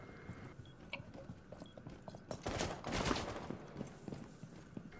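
Rapid gunfire crackles in Rainbow Six Siege, shots fired through a wall, a quiet scatter of pops that builds into a louder dense burst midway before thinning out again.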